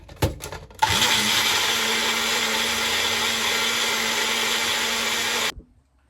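A blender whirs loudly and steadily for about five seconds, blending a tofu nugget mixture with fresh garlic on a high blade, after a few short knocks and clicks at the start, then cuts off abruptly.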